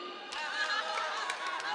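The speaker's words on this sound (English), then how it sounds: "We got a lot of cheering for that one." An audience at an Oregon robotics championship cheers and chatters after a robot joke, a steady crowd roar with scattered claps and voices mixed in.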